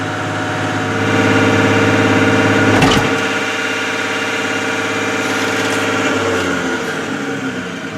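A machine engine running up to normal operating RPM during valve calibration, a loud steady mechanical drone with a brief rattling knock partway through, then continuing evenly.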